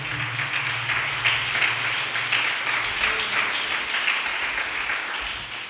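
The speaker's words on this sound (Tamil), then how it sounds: "கரங்களை தட்டி எல்லாரும் ஆண்டவருக்கு நன்றி செலுத்துவோம்." A church congregation at a Sunday service applauding together in thanks, dense sustained clapping from many hands filling the room at a steady level.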